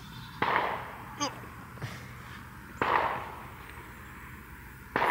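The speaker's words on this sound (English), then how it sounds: "Gunshots in the background and everything" Sharp cracks of gunfire pop at irregular intervals in the distance on a farm, several shots over a few seconds against faint outdoor background noise.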